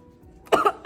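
After a quiet stretch, one person gives a sudden, harsh cough made of two quick bursts that come close together near the microphone. A fainter third burst follows at the very end.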